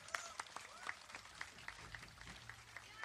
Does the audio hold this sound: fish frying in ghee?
no